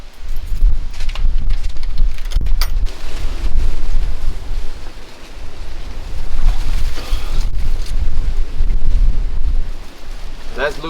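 Steady wind buffets the microphone outdoors at an exotic animal ranch pond, a loud continuous rumble with gusts rising and falling throughout.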